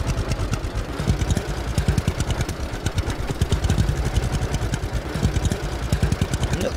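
A tractor engine in the video game Lumberjack's Dynasty chugs steadily with a rapid, even pulsing rhythm, close and fairly loud, heard alone without speech for the whole stretch.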